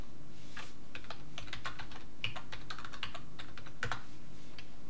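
A password is typed on a computer keyboard: a quick, irregular run of crisp key clicks close by, with short pauses between bursts, over a faint low room hum and no talking.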